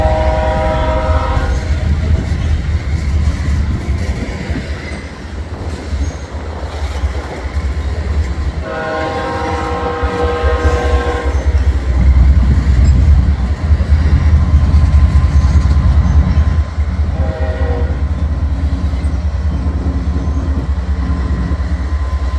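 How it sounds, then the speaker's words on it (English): A southbound loaded coal train, two locomotives leading, roars past close by with a steady loud rumble of wagons and rail noise, its horn sounding in several blasts. "First train is a 2x1 southbound loaded coal."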